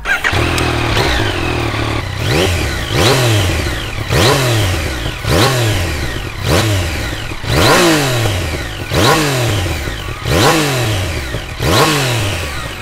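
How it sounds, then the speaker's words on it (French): A Yamaha Niken three-wheeled motorcycle engine revs repeatedly, climbing and dropping in pitch in a steady cycle of throttle blips, loud and close with a clattering idle between. "je vais quand même vous faire écouter le bruit de la moto."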